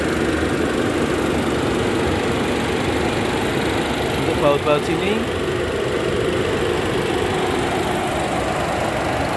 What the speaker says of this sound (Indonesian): suaranya mesin juga halus banget.